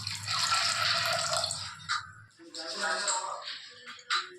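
Water pours into a pressure cooker holding soaked moong dal, a close splashing rush followed by shorter trickles and drips as the stream breaks off.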